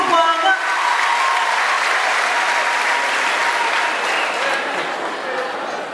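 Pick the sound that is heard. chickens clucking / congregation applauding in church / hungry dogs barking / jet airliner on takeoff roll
congregation applauding in church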